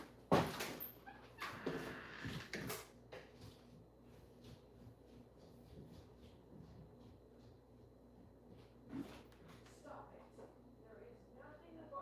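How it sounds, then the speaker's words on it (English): An indoor dog barks in a few sharp bursts near the start and again around the middle, mixed with whimpers and yips, while people talk in between. "he won't stop barking"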